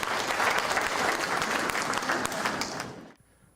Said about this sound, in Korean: 자, 여러분 큰 박수 부탁드립니다.